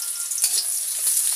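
Chopped onion frying in oil in a wok, a loud, steady hiss of sizzling throughout with slight stirring movement.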